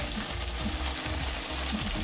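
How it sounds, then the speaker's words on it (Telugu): Green beans sizzle and fry steadily in a hot pan of oil for South Indian veg pulav, a continuous close hiss with faint stirring scrapes and no voices. "అలానే బీన్స్ కూడా వేసేసుకోవాలి. ఇది కూడా ఒక 5 మినిట్స్ ఫ్రై అవ్వాలండి."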